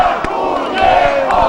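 Crowd of protesters in Kiev shouting together as police advance, with a continuous loud mass of voices and chanting and a few sharp thuds or bangs.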